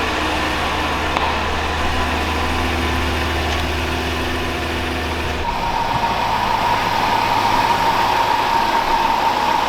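A Lamborghini engine idles with a steady low rumble, close and loud, its tone shifting midway as the car is pulled in.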